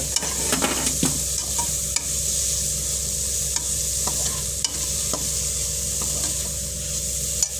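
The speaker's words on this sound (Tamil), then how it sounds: "நல்லா இப்படி வதங்குங்க" Tomato gravy sautéing in a pan gives a continuous close sizzle broken by regular spatula scrapes and light taps against the metal.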